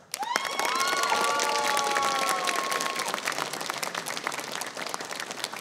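Audience at a Ukrainian stand-up battle semi-final clapping and cheering to vote for a team, a sustained wave of applause with a whistle near the start, staying loud before thinning slightly toward the end.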